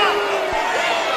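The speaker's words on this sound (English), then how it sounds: "Crowd doesn't like that either." A basketball arena crowd murmurs and groans in disapproval after a foul call, a broad, sustained wash of many voices close and loud throughout the brief moment.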